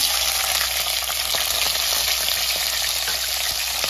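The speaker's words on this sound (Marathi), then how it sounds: "आता आपण यामध्ये टोमॅटो टाकूया" Tomatoes added to a hot pan of frying mustard seeds, cumin and garlic, a loud, continuous hissing sizzle with faint crackles and light stirring, close and without talk.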